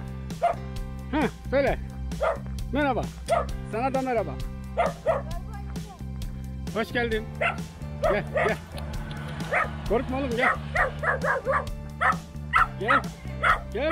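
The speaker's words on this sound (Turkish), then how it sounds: "Bu köpek ne çok avlıyor" A dog barks, yips and whimpers repeatedly at close range in a village, its excited sounds mixing with people talking and calling it over.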